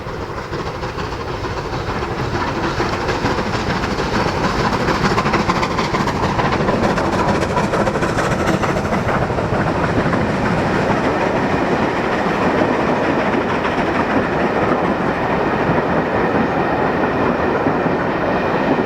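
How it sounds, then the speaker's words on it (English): Braunton, a three-cylinder steam locomotive, arriving with the English Riviera Express from Shrewsbury to Kingswear, a loud sustained roar of exhaust and rolling wheels with rhythmic rail clatter building in over the first seconds and continuing throughout. "devastating sound of a 3-cylinder engine marks the arrival of Braunton on an English Riviera Express from Shrewsbury to Kingswell"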